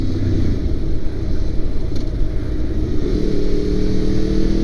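A 2002 Honda VFR800 motorcycle with an 800 cc engine runs continuously while riding, giving a loud, low engine drone under rushing wind noise, the engine pitch shifting slightly partway through.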